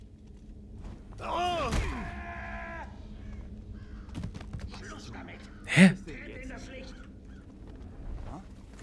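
A raven caws loudly once in the 2014 stealth game Thief, amid a quiet game ambience with thumps and a sharp impact later; someone talks in German around it.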